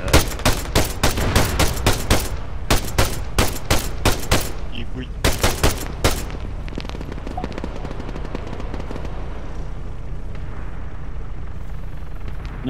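Gunfire in the ArmA 3 game on the Takistan map: loud, rapid automatic bursts crowd the first six seconds, then give way to a quieter ambient rumble.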